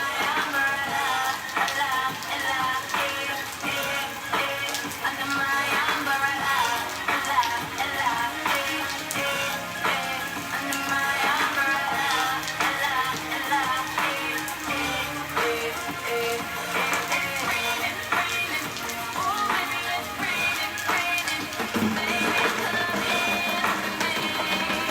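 Rain patters steadily and fairly close on an umbrella and nearby surfaces, a continuous dense hiss with scattered drips, mixed with faint music and occasional voices in the background.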